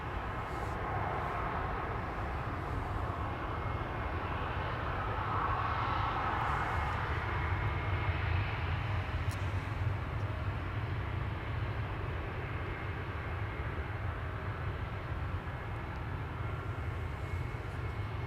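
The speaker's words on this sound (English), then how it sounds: "This is a 737-800, the BGK." A Boeing 737-800, seven years old, departs Amsterdam Schiphol Airport, heard as a steady, continuous broadband engine roar throughout from a public spot beside a cycling path.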